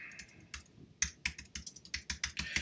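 Rapid, close keystrokes on a computer keyboard while typing out a Perl program, a quick irregular run of crisp clicks with short pauses and no talking.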